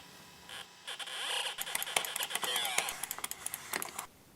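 Sound effects from the DOS arcade game Millipede play at a low level: rapid chirping zaps and clicking bursts in quick irregular succession, with a soft tonal sweep, thin and distant with no talk over them.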